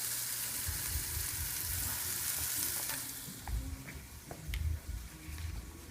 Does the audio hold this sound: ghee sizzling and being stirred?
yes